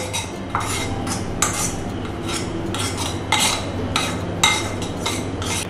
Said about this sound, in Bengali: এখন টক দইটা ভালো করে চারিদিকে ছড়িয়ে নিতে হবে।